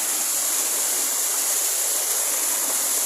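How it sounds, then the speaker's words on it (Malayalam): A small waterfall stream rushes over rocks in a steady, loud, unbroken flow of water with no voices. "വെള്ളൊഴുക്കുകൾ പാറച്ചാലുകളിലൂടെ വരുന്ന നീരൊഴുക്കുകളാണ്."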